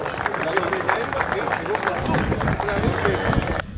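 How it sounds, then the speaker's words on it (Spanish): Applause from the audience at a cattle show in Realicó, greeting the grand champion female from Cabaña La Elba de Darguzzi, dense steady clapping with crowd noise throughout, cutting off sharply near the end. "Un fuerte aplauso, por favor."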